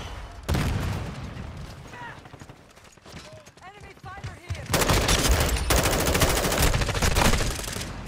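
Call of Duty: Modern Warfare II gunfire comes in scattered shots at first, then a loud sustained burst of automatic fire fills the second half, with people talking over the action.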